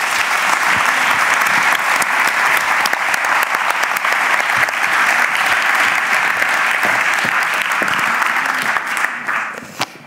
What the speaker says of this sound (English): Please, really warm applause for the panelists here.